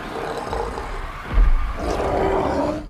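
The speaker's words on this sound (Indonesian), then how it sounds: "terdengar raungan menyeramkan dari bawah tanah" A bloater, a monstrous fungal zombie from The Last of Us, lets out a deep, menacing roar from underground, a loud guttural growl that swells midway and then rumbles on.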